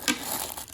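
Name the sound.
plastic bag crinkling while unboxing a watch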